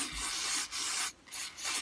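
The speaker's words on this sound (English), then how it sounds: "I've got a nylon brush here, which I'll just give it a bit of a clean." A nylon brush scrubs a Honda HRH536 lawn mower carburetor part, giving close, rhythmic scratchy strokes in several quick passes with brief gaps between them.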